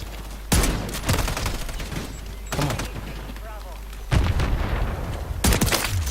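Bursts of gunfire rattle through a video game match, several loud volleys of rapid shots separated by short quieter gaps, with faint voices in the background.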